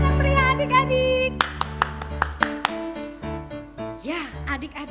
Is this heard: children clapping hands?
yes